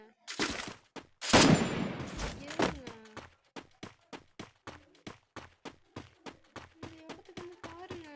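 A string of firecrackers bursts outdoors: a dense, loud crackling volley up front, then a steady run of sharp individual bangs at an even, rapid rhythm, close by and alone.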